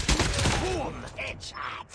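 A short burst of rapid gunfire from a video game shooter plays at close range, with a few crackling shots and a voice talking over it.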